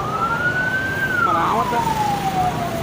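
An ambulance siren wails at a toll road accident scene on the Jakarta toll road at km 58, a loud rising and falling tone over traffic noise, with a person speaking briefly.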